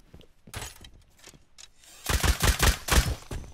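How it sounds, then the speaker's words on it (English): Gunfire in a video game shooter, sparse sharp shots at first, then a loud dense burst of rapid automatic fire in the second half, close and alone. "I shot him in the back."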